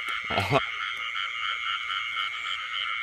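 Field frogs croak in a wet rice paddy at night, a dense continuous chorus close and loud throughout. A short burst of speech or noise cuts in near the start.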